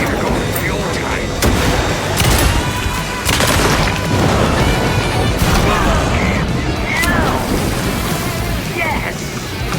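A flashbang going off in the video game Alan Wake 2: a loud, dense blast and roar that fills the scene, with rumbling, crackling noise and game sound layered throughout, likely with voices mixed in.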